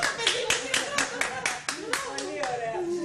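An audience claps in a quick, uneven patter for about three seconds, fairly close, while a voice talks over the applause.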